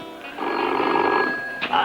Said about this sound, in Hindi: हर 2 मिनट बाद टेलीफोन आ जाता है